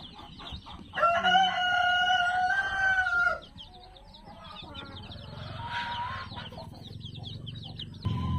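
Black Australorp and Brahma chickens on a small farm: one rooster crows loudly and long near the start, then softer clucking and scattered fowl calls continue over steady farmyard background.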